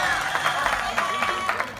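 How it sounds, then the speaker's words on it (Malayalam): An audience at a Malayalam Mappilappattu stage show claps along in a rhythmic beat, mixed with music and crowd noise at moderate loudness. "ഉഷാറായിട്ട് കൈയടിച്ചാൽ ജോലി"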